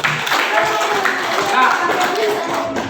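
Students in a classroom clap their hands together after a teacher's prompt, a brief burst of dense, overlapping claps that fills the room at close range.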